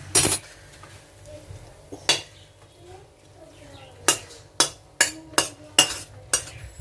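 Metal spatula chopping and scraping a vegetable chop mixture in a pan, a run of sharp clinking strikes, sparse at first then a quick series of about six close, crisp hits near the end.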